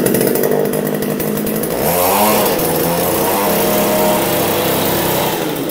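A GX35-style gasoline earth auger engine runs steadily on test, a loud, continuous high-pitched two-stroke buzz with a brief revving swell partway through, heard alone without talk.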